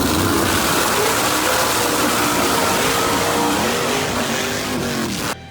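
A naturally aspirated 2004 Chevy Cavalier drag car on 10.5 tires at Toronto Motorsports Park, its engine roaring loud and steady up close for several seconds before cutting off abruptly, no talk.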